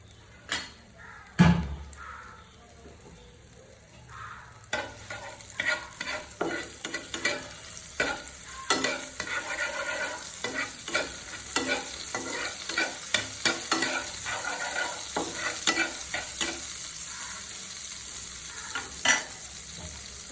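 Chopped green chilli dropped into a pan with a little oil and black cumin, a sharp knock at the start followed by close sizzling and repeated scraping stirs for a brinjal bharta.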